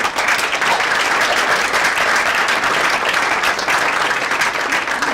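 Dense, sustained applause from a large audience at a book launch talk, steady and loud throughout with no pauses.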